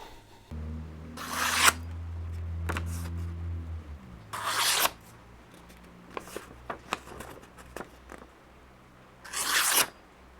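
A freshly sharpened axe slices through paper in a paper test, making a few sharp, breathy rasping swipes separated by pauses, close up. A low droning tone is heard at the start.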